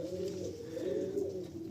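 Low, throaty cooing from pigeons kept in a loft, a few birds murmuring over one another in a steady rolling burble, nearby and unaccompanied by voices.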